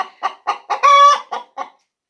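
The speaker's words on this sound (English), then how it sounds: "chortling and cackling and talking, and we call that the egg song" An Isa Brown hen cackles the egg song, a string of loud, evenly spaced clucks rising to a long drawn-out squawk in the middle, close and alone.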